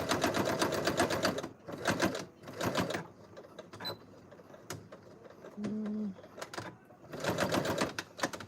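A sewing machine runs bursts of stitching through the final seams of a bucket hat, three close runs at the start and two more near the end, with quieter pauses and small handling clicks in between.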